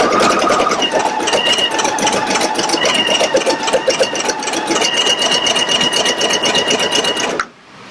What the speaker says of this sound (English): I'm going to go ahead and do the first sew out, which is the applique positioning stitch.